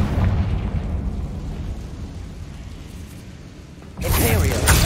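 Spell blasts in the video game Hogwarts Legacy as the Confringo explosive spell is cast: a loud burst at the start, a dense rumbling stretch, then a second sharp explosion near the end.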